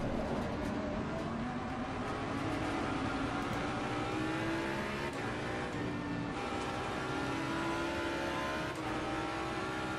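Jaguar GT3 race car engine in Assetto Corsa Competizione at Zolder, onboard, droning loudly and steadily with gradually rising pitch as it accelerates, a few brief shift dips, no talking.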